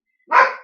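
A single short dog bark rings out, loud and close, after a moment of silence.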